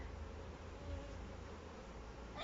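Honey bees in an apiary hive with sealed brood, a dense continuous buzzing hum, close and steady, with no voices.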